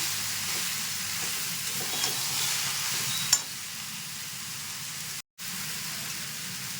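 Chickpeas sautéing with spices in a pan give a steady, close frying hiss throughout, with one brief click partway and a short dropout near the end.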